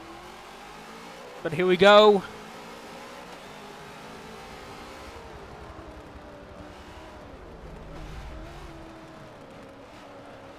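Race car engines at the start of a Bathurst 1000 race in Forza Motorsport 7 give a steady drone with one short, louder rev burst early on, all under someone talking.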